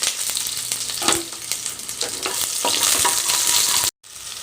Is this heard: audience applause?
no